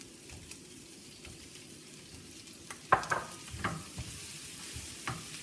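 The rest of a stick of butter goes into a hot pan for garlic butter shrimp, setting off a sudden close sizzle and crackle amid a few utensil clatters, with no voices.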